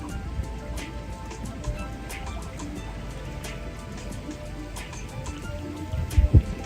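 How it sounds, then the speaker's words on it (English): Water trickles outdoors on a breezy day, a soft continuous wash with scattered small drips. A few low thumps come close to the mic near the end. "The sounds of the trickling water, so nice to start the day."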